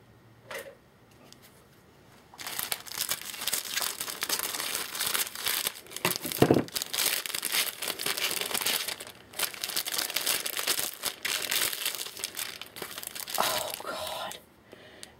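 Loud crinkling and tearing of wrapping as a package is opened, busy and close, with a brief quiet pause partway through.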